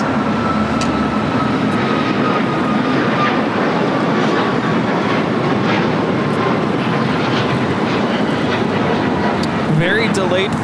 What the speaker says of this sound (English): Cayman Airways 481. Finally taking off to Georgetown on this MAX 8